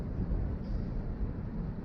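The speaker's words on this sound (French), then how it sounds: "Donc là, je suis face au vent" Wind rushes straight into a GoPro Hero action camera's microphone on the shore facing the ocean, a steady low roaring buffet that stays loud and continuous throughout with no voice over it.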